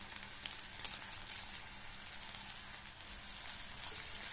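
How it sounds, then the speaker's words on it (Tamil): Small onions, green and dried chillies and curry leaves sauté in hot oil with a soft, steady sizzle and crackle, faint and even, with no talking. "இப்போ இந்த வெங்காயம் நல்லா வதங்கணும்."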